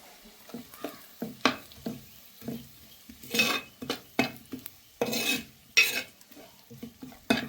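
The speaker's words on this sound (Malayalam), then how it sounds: "പൊടിയുടെ പച്ചമണം മാറുന്നത് വരെ നമുക്കൊന്ന് വഴറ്റി കൊടുക്കാം." Spice powders being stirred and sautéed in a pan for a Kerala-style pearl spot fish curry with kudampuli, with repeated scraping spoon strokes, soft sizzling and occasional clinks of utensil on the pan, close and alone.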